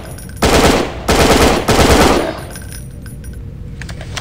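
Rapid machine-gun fire in the Resident Evil video game, three loud sustained bursts close together, then quieter game ambience with faint clicks afterward.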